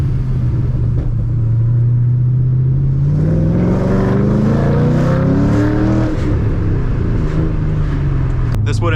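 The 3-valve Mustang drift car rumbles loud and close, its deep engine note rising in a rev around the middle before settling back to a heavy drone.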